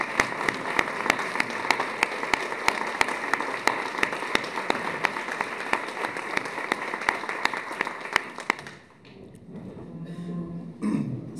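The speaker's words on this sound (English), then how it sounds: "we should probably just stand and give him a round of applause" An audience at a women's policy conference applauds with steady, crisp clapping for about nine seconds, then it cuts off into a quieter room with a few faint sounds.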